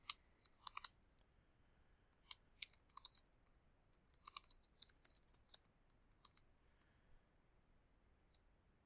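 Typing on a computer keyboard in irregular bursts of crisp, close clicks separated by short pauses, quiet overall and without any speech.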